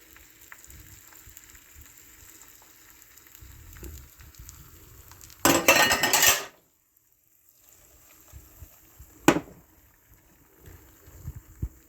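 Eggs poured into melted butter in a pan for an omelette, giving a loud burst of sizzling for about a second, then quiet frying with a sharp clatter later on.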